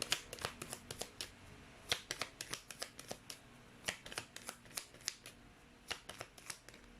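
Tarot cards being shuffled up close, a quick irregular series of crisp riffles and slaps, loud and distinct with no talking.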